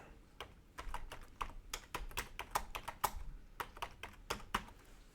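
Continuous typing on a computer keyboard, a steady run of close, crisp key clicks in an uneven rhythm with no voices.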